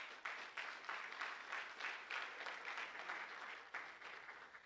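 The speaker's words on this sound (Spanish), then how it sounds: "Un aplauso a las mujeres." A church congregation applauds the women, a steady mass of hand clapping filling the room for several seconds, moderately distant and without talk over it.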